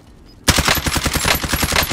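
Call of Duty Warzone gunfire breaks out suddenly after a quiet moment, a loud, rapid burst of automatic fire rattling on steadily at close range.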